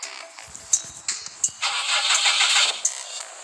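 A car engine in the game Fox Grand cranks and catches with a few sharp clicks and bursts, then settles into a steady mid-pitched run, loud and close with no voices.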